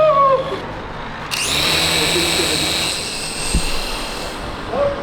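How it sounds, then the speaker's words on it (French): A toy helicopter flying indoors, its high, thin electric motor whine starting abruptly and holding steady for several seconds, close and fairly loud, with brief voices at the start and end. "Félicien, comme ça on joue avec l'hélicoptère?"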